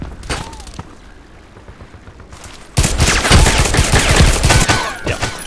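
Weapon fire in the online shooter Contract Wars: a few scattered shots, then a loud, sustained burst of rapid automatic fire, close and dominant.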